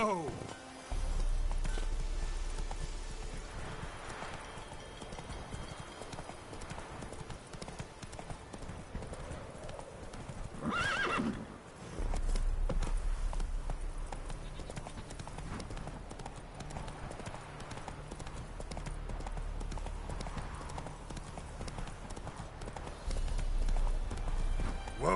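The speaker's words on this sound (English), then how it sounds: "Whoa there, Roach" A horse in The Witcher 3 video game gallops with rapid, steady clip-clop hoofbeats throughout, loud and close, with a brief whinny midway and a voice speaking over it.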